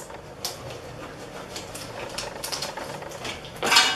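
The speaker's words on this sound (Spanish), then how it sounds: "Con ayuda de unas tijeras." Scissors cut the label off a plastic detergent bottle: a series of scattered sharp snips and clicks over a quiet room, ending in a louder rustling crinkle of plastic.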